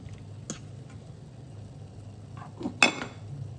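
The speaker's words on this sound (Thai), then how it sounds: "ขอลวกเห็ดก่อนนะคะ" Pots and utensils clatter in a kitchen while mushrooms are blanched, with a few sharp metallic knocks and clinks spaced apart, the loudest coming near the end, over a quiet background.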